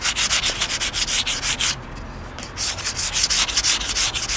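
Sandpaper rubs lightly back and forth over undercoat on wooden stair spindles, a close, rhythmic series of scratchy strokes with a short pause midway.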